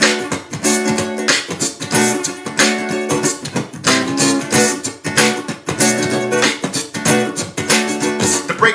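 A vinyl record plays a hip hop break on a turntable, with punchy, loud, rhythmic drum hits and horn-like stabs repeating in a steady groove with no talking.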